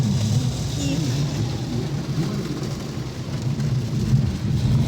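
Steady, dense roar of torrential rain pounding a slowly moving car, with low rumbling road and engine noise underneath, continuous throughout.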